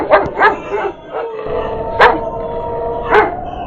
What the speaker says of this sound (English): Dogs barked in the distance.